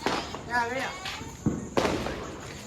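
Diwali whistle rockets fired by hand burst with sharp pops, two distinct bangs cutting through close, excited voices talking over them.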